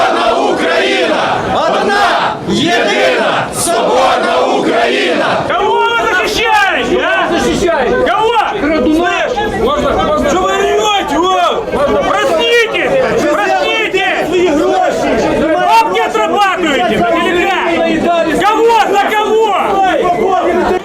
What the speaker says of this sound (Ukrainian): Щоб перекричати вигуки спортсменів банду геть, місцеві активісти почали співати гімн України та вигукувати націоналістичні гасла